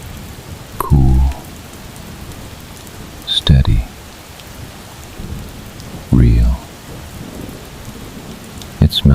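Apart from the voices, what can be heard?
rain falling with thunder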